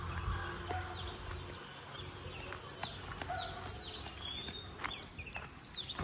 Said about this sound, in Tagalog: Sarap pakinggan ng huni ng mga ibon.